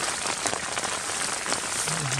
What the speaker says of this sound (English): Especially in the rain.